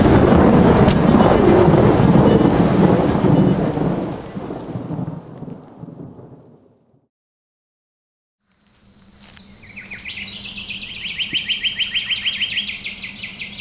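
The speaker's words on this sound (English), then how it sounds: "This storm's coming in pretty good now." A thunderstorm rolling in over the Northern Territory wilderness, with loud, steady rain and low rumbling thunder that fade into near silence, then return as softer rain with insects chirping nearby.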